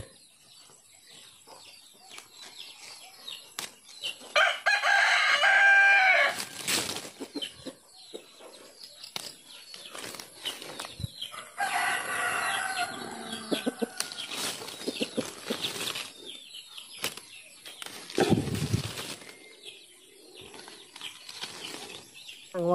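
Chickens on a rural farm in Lagonoy, Camarines, cluck and crow in several loud nearby bursts, with fluttering wings and quieter scattered clucks between them.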